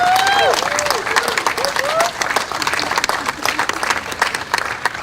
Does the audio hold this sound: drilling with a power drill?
no